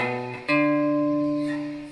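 A short intro phrase on guitar: a brief chord, then a struck note that rings on and slowly fades, played alone and close.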